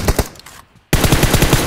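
Loud automatic gunfire from PUBG Mobile rattles in rapid bursts, cuts out for a moment, then resumes in a dense, fast stream with no voices.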